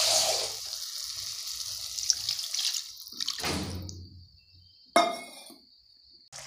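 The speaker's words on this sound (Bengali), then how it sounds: "এইবার ডিমগুলো সিদ্ধ হওয়ার জন্য কিছুটা জল দিয়ে দেবো।" Water poured into a cooking pan for boiling eggs in an egg bhurji gravy, a splashing tap-like stream that fades, then a second short burst of pouring near the end, close and fairly loud with no talk.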